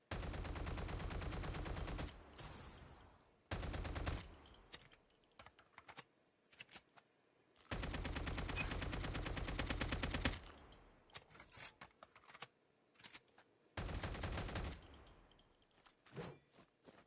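Custom gunshot effect for the AK47 Pumpkin Head rifle in a video game: loud, sustained bursts of rapid automatic fire alternating with shorter clusters of single shots and brief pauses, close and dry, with no talking.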